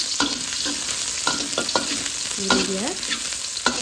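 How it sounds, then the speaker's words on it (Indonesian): Shallots and spice paste sauté in a pan for fried rice, a continuous hissing sizzle with occasional stirring scrapes. A voice speaks briefly partway through. "Sekarang kita tumis bumbunya."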